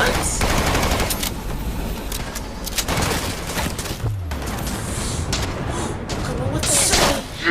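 Heavy sustained gunfire from Cyberpunk 2077 in rapid bursts and blasts, loud and continuous throughout, with a deep boom midway and voices talking over it.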